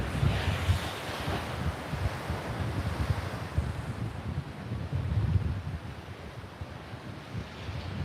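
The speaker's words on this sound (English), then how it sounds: "And you can see all the water sucking out." Ocean waves surging over coastal rocks and draining back out, a loud continuous rushing wash with heavy wind rumble on the microphone and no speech.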